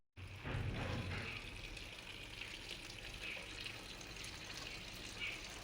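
Water is poured in a home kitchen as a steady close splashing stream. It starts abruptly and keeps flowing evenly at a low level with no voices.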